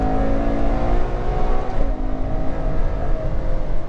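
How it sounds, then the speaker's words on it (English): Ferrari 812 Superfast with its 800 hp V12 engine revs loud and close, a dense, steady roar with layered harmonics holding throughout, briefly dipping around the midpoint before climbing again, with no talking. "This is a rear weight biased 800 horsepower V12"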